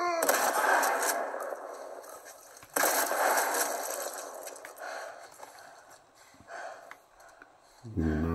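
Bursts of gunfire crackle in The Last of Us Part 1, loud volleys at the start and around the three-second mark, then scattered fainter shots, with a voice speaking briefly over the fight.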